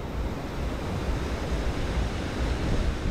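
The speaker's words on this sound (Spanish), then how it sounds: "Como que rompe más tranquilo el mar." Sea waves break on the beach at Playa del Carmen, a loud, steady wash of surf with wind noise and no talking.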